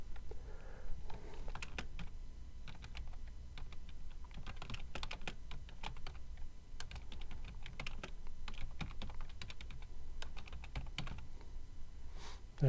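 Typing on a computer keyboard while entering a caption title in Microsoft Word: quiet, close key clicks in irregular bursts and flurries across the whole stretch, with no voices.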